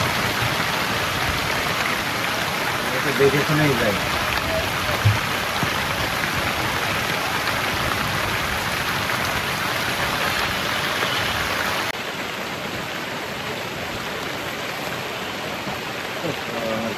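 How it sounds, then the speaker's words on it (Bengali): Heavy rain falls on a wetland beside a small boat moored near the shore, a dense, even hiss of drops that holds steady, then thins slightly late on; a brief voice is heard under it. "আস্তে আস্তে বৃষ্টির পরিমাণটা বাড়ছে, ফোঁটাগুলা ছোট থেকে বড় হচ্ছে।"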